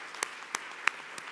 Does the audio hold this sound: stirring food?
no